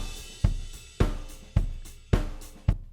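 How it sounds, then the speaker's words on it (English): A full drum kit plays alone, with a strong kick and snare hitting in a steady pattern about every half second over cymbal wash, recorded close and dry before bus compression. "Here's the full kit."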